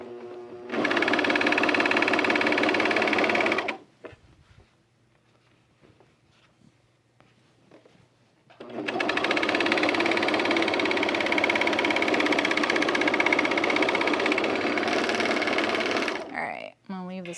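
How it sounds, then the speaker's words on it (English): Industrial sewing machine stitching in a fast, steady whir, two loud continuous bursts separated by a quiet pause filled with faint handling sounds, then a brief stop near the end. "This machine right here, this is an industrial."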